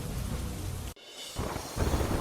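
Steady monsoon rain pours down in Panchmahal, Gujarat, with a low thunder rumble underneath; the sound cuts off briefly before the downpour resumes.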